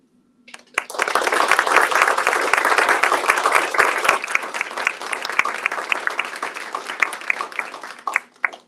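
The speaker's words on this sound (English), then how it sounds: "we're gonna take a moment and we're gonna honor them with applause" Dense audience applause honoring a couple at a Proactively Pink cupcakes and conversations event, rising quickly, holding steady for several seconds as a thick wash of many clapping hands, then tapering off.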